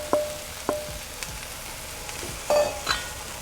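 Sweet potato added to a hot pan with onion, frying with a soft continuous sizzle punctuated by several sharp clicks and scrapes of stirring, close and fairly quiet with no talk.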